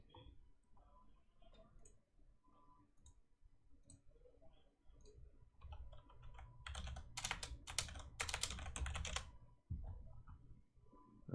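Keyboard typing in quiet ASMR style, light scattered key clicks at first, then a dense loud burst of rapid keystrokes near the end, with no talking.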